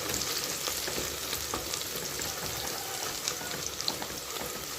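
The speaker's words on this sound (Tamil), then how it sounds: "வெங்காயம் நல்லா வதங்கிட்டுருக்கு இப்போ இதில் நம்ம பச்சை மிளகா சேர்த்துக்கலாம்" Onions and green chillies sauté in a pan with a dense, continuous sizzle and crackle, close and even throughout, with no talk over it.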